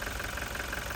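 A steady car engine drone holds at a constant pitch around 2,500 RPM with a faint rhythmic knock underneath, close and continuous for about a second.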